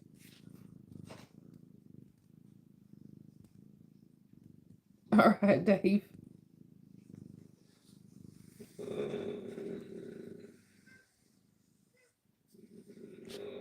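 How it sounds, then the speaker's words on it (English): A cat purrs softly and steadily near the microphone and shifts about, with a brief louder rustle in the middle and someone speaking at times. "Trying to let the cat move."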